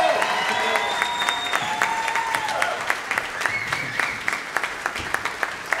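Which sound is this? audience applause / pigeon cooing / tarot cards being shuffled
audience applause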